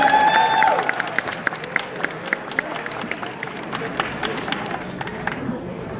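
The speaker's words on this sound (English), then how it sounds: "So give your guys a round of applause for your dedication." Audience applause at Maplestory Fest, a live gaming fan event: a crowd claps in a scattered patter after a brief spoken line at the start, the clapping thinning and fading toward the end.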